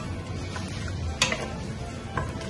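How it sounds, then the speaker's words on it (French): Rice being stirred with water in a cooking pot, a soft continuous scraping with a couple of brief louder knocks against the pot. "Et à l'intérieur, on remue bien."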